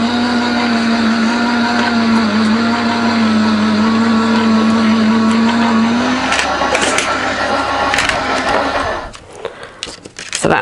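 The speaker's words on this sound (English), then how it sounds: "you're going to pop your embossing folder on it and your plastic shim, and you're just going to feed that through to the machine" A Gemini die-cutting machine whirs loudly and steadily with a constant motor hum as it feeds an embossing folder with a plastic shim through, then winds down near the end with a few clicks.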